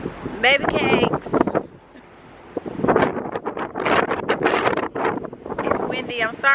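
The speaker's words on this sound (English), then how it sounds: "It's windy. I'm sorry about the wind." Wind gusting hard into the microphone at Hoover Dam, a continuous broadband rumble and buffeting that rises and falls, with people talking excitedly over it for most of the clip.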